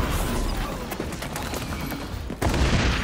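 Rifle fire from the shooter game XDefiant comes as dense, continuous rattling shots that fill the whole clip, with a heavier burst near the end and no talking.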